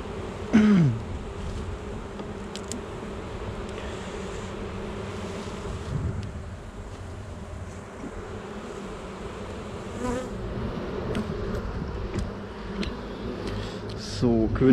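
Honeybees buzz in a steady, dense drone at an open hive with natural combs during an autumn treatment for chalkbrood, close and continuous with brief louder swells, as someone speaks now and then.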